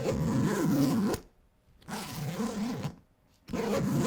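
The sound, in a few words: YKK zipper opening on backpack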